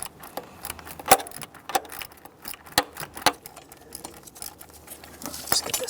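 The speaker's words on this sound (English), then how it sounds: "I'm going to be tightening this with my 1/4 inch ratchet because that's the type of clamp I'm using." A 1/4 inch ratchet tightening a fuel hose clamp on a 1999-2006 Chevrolet Silverado 1500 4.3L V6, giving sparse, close metallic clicks and small taps scattered over a quiet workshop background.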